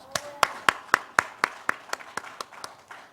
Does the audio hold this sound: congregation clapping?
yes